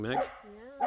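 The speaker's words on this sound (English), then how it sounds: "Excuse the dogs, they're in play mode right now." Dogs barking in short, close, loud bursts while wrestling playfully in mud outdoors, with someone briefly talking between the barks.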